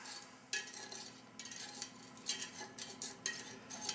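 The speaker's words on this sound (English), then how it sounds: "Give that a stir." Orange drink powder stirred into water in a cup, a faint spoon scraping and clinking against the sides in short irregular bursts, quiet and close.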